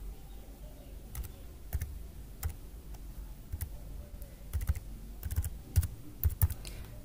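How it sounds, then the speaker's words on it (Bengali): Keys clack on a computer keyboard as an application number is entered, a sparse run of sharp clicks that gathers into quicker bursts toward the end, close and fairly quiet against a low room hum, with no talking. "এখানে আপনার যে অ্যাপ্লিকেশন নাম্বার সেই অ্যাপ্লিকেশন নাম্বারটা এখানে টাইপ করবেন।"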